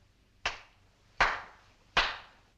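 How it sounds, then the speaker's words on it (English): Hands clap three times, sharp and evenly spaced about three quarters of a second apart, each with a short roomy decay over a quiet hum, in a 1950 film of Cyrano de Bergerac. "I clap my hands 3 times,"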